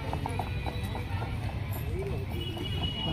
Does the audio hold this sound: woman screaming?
no